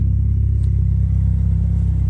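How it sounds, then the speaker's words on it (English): Steady low rumble and throb of the engine and exhaust on a 1991 Mitsubishi 3000GT VR4 running at idle, close and continuous with no talk. "the engine sounds healthy"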